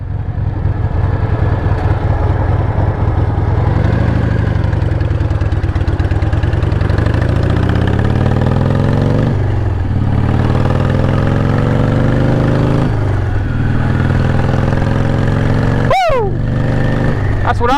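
A 1968 Harley-Davidson flat-side Shovelhead motorcycle engine idles with a loud, steady low lumpy rumble throughout, briefly revving a couple of times, with a sharp clatter near the end.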